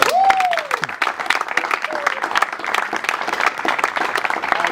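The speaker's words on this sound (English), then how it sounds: "give yourself a round of applause" A crowd at a house event in Fresno gives a lively round of applause, with close, dense clapping, a whoop at the start and scattered cheers under the steady clapping.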